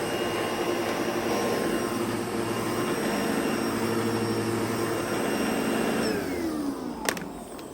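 A domestic vacuum cleaner with a full bag and badly reduced suction drones and whines steadily in a commercial setting, then winds down near the end with a brief click. No one speaks.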